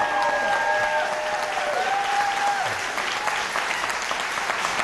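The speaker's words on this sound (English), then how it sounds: "You can applaud now if you'd like." A studio audience applauds at the close of a televised 2018 Ohio U.S. Senate debate, a loud, continuous wash of clapping with a few faint tonal sounds and voices underneath.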